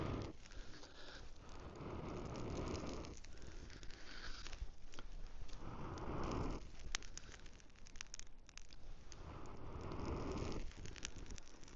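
A small fire catches in birch bark from a bow drill ember on a wet, rainy day, giving faint crackling with soft, breathy hissing bursts that swell and fade.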